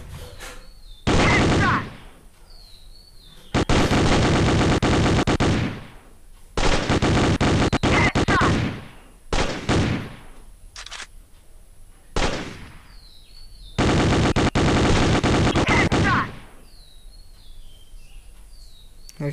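Repeated bursts of P90 submachine gun fire in a shooting video game, loud and close, several sustained volleys separated by short pauses, with faint electronic chirps between bursts and no talk.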